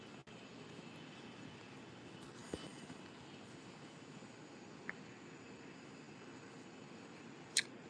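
Aircraft arriving at an airport produce a faint, distant, steady engine rumble and roar that persists throughout, with a few small clicks and knocks nearby and no voices.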